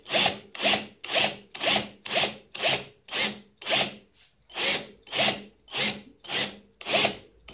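A drill bit bores into a 7.62 cartridge case held on a small wooden board, making about fourteen evenly spaced rasping strokes in a steady rhythm, close and fairly loud, with no talking.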